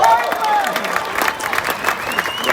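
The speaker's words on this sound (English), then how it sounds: "And keep that applause going" An audience applauds and cheers at a welcome home celebration for Australian Olympic athletes as boxer Caitlin Parker is introduced, sustained clapping from a crowd, with a voice speaking over it.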